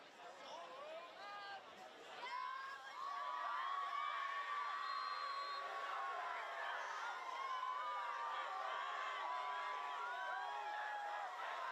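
Spectators at a high school varsity football game between Arlington and Winchester swell into loud, sustained crowd noise with chatter and shouts, a commentator's voice talking over the steady roar.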